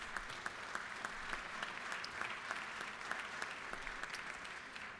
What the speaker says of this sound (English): give them a nice round of applause for being here with us